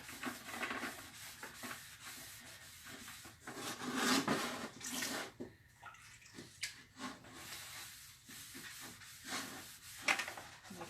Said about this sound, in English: I'm going to take some water and my sponge,